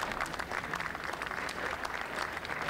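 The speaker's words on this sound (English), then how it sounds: "I just want to have a real round of applause for what they do" An audience at the 2023 Manhattan Jewish Hall of Fame induction ceremony gives steady, dense applause that fills the hall evenly at moderate volume.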